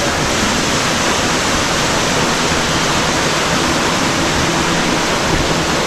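A steady, loud roar of a waterfall crashing into a deep pool near Kununurra, continuous broadband rush with no voices.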